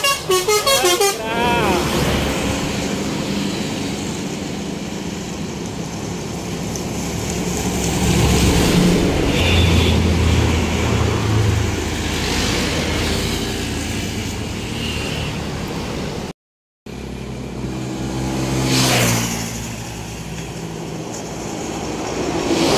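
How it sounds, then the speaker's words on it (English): A Volvo B11R bus pulls in with a loud, steady diesel engine rumble that swells and fades over about twenty seconds, with a horn toot partway through and people talking nearby. "Volvo V11R set masuk dia."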